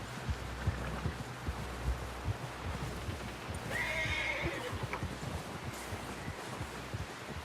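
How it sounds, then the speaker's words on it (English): A horse in the Red Dead Redemption 2 video game lets out a whinny midway through, set over steady, close clip-clop hoofbeats and low background rumble, with no talking. "Someone help John down off this horse"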